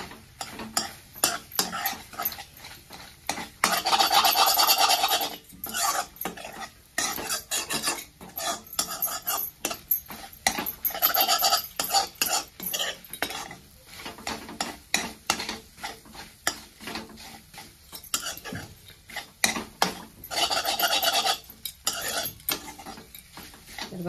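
A beaten egg mixture is stirred and broken up finely in a pan, giving a steady run of scraping, clinking utensil strokes against metal and a light sizzle underneath, close and moderately quiet.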